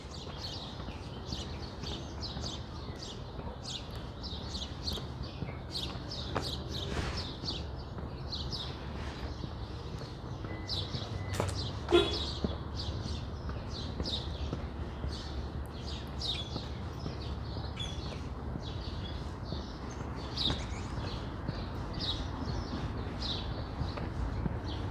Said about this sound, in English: Nice to hear all the birds out too